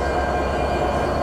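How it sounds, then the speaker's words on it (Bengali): An American Progressive-built EMD 63 series broad gauge diesel-electric locomotive, leading an intercity train in Bangladesh, idles during coupling as a steady, loud low engine rumble with no distinct coupling clank. "এখানে এখন হচ্ছে লোকোমোটিভ কাপলিংয়ের কাজ চলতেছে"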